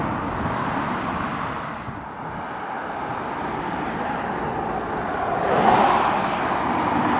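A Renault T-High truck pulls into The Hollies Truckstop on the A5 at Cannock, its engine a steady mid-distance rumble that swells a little near the end among general roadway noise.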